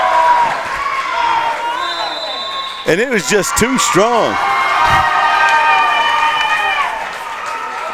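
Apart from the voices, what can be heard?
basketball crowd cheering wildly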